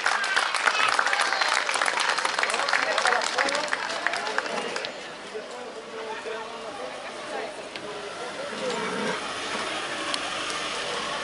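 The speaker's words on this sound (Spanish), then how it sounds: "Brindemos entonces un fuerte aplauso" Applause from the audience at a Chilean-style equestrian championship show, a dense, sustained clatter of clapping that starts loud and eases to a steadier, softer level, with some crowd murmur underneath.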